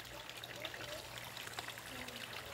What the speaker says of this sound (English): Can you hear that? Yep, that's water.